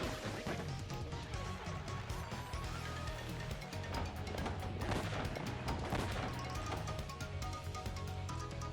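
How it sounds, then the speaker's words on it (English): Cannon fire in the Paper Mario: The Thousand-Year Door HD video game arrives as a dense barrage of booming blasts and crashes layered over game music, loud and continuous throughout. "That cannon sounds mean."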